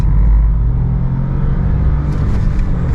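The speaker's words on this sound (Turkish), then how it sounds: "Dip gaz yapıyorum." A 2023 Dacia Jogger accelerates at full throttle, its engine a loud, steady rumbling roar that stays close and strong throughout, with no talking.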